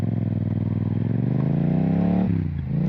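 Motorcycle accelerating up through the gears, a close, loud engine whose pitch climbs steadily before a clear gear change drops it, heard alone without talk.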